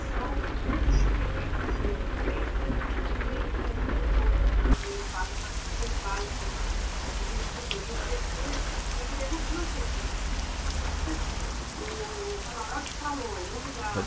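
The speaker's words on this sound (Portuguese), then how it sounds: "Ih, começou a chover aqui também." Steady heavy rain roars with low rumbling thunder throughout in American Truck Simulator, a constant dense wash of sound that shifts level partway, with faint voices underneath.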